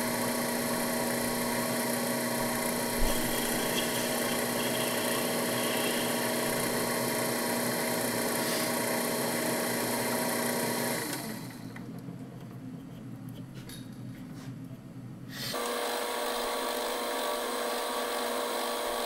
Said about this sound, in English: This side I'm drilling with a 8-inch drill bit.